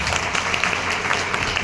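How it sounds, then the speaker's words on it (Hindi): Loud, steady applause from an audience clapping for the Agrawal family at a Jashan 2025 event in Ranchi, dense and continuous with no letup. "मैं चाहूँगा एक बार अग्रवाल फैमिली के लिए जोरदार ताली होनी चाहिए।"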